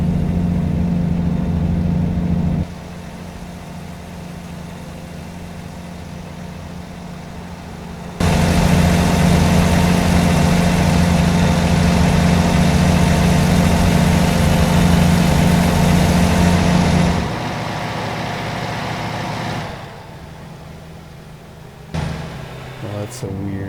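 Truck engine droning on a highway in American Truck Simulator, a steady low rumble that swells louder for several seconds, then eases back to a quieter hum, with a voice talking along.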